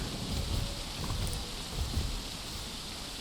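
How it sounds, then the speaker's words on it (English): Steady rain hisses softly in a dinosaur video game, a faint, even wash of falling drops with occasional low rumbles underneath and no voices. "It is raining. It is doing the rain."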